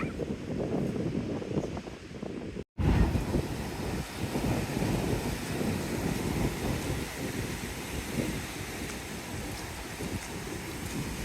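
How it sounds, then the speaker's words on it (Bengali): Late-afternoon wind on the beach at Cox's Bazar buffets the microphone in a continuous rushing roar, cut by one brief dropout near the start. "খুবই ভালো লাগছে এখানে বাতাসটা"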